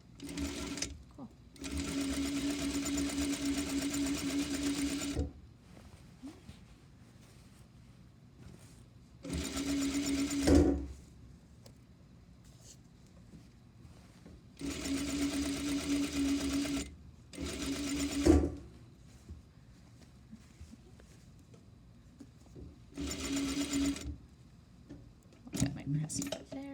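A sewing machine stitches a bag lining at stitch length 3 in several steady bursts of a few seconds each, separated by pauses where someone talks quietly nearby.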